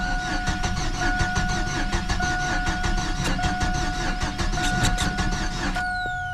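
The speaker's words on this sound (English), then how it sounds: "Once again, I'm even giving it some gas." A GMC Sonoma engine cranks repeatedly with the gas pedal pressed, a loud close rhythmic starter churn with a steady whine running underneath, ending in a falling whir as the cranking stops without catching.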